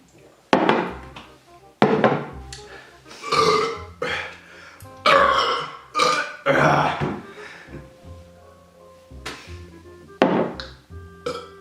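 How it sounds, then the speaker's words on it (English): Burping after chugging Diet Pepsi, a string of loud, close belches of varying length that come in quick succession with short gaps between them. "Let's just let out a bunch of burps now."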